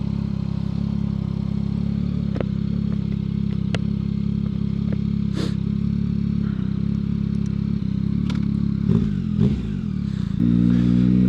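Steady motorcycle engine drone throughout while riding with an EJEAS X10 intercom, with occasional clicks and clatter, and a rise in revs near the end.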